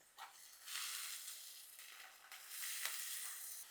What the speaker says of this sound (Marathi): डाळ घेऊया 2 मिनिटासाठी परतू.